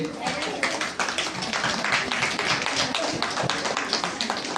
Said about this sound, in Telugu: అందరూ కూడా చప్పట్లు పరచండి.